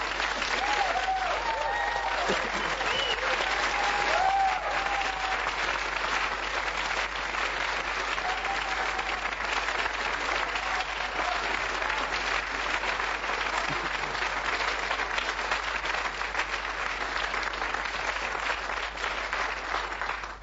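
Sustained, dense applause from a theatre audience welcoming film director Vladimír Sís on stage, steady and loud throughout with a faint murmur of the crowd beneath the clapping.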